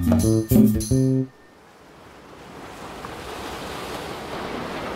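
Sea waves washing in at Bombinhas beach, a steady, broad surf hiss that builds gradually after a short burst of music at the start, with some wind noise.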